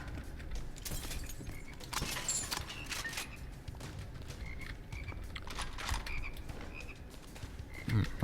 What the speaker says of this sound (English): I hear frogs.